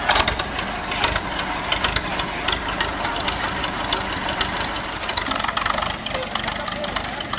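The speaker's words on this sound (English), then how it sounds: "Right now I'm watching a United motor grader in operation." An antique United motor grader running at a gravel company truck show, a steady rumbling engine with scattered crunching and knocking, moderately close and continuous outdoors.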